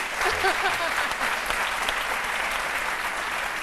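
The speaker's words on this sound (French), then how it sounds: "allez-y, vous pouvez applaudir" An audience claps in sustained, even applause, loud and close, filling the whole stretch without pause.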